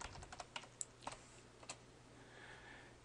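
Quick keystrokes on a computer keyboard, a short run of sharp clicks spaced irregularly, close and fairly quiet over a faint steady hum.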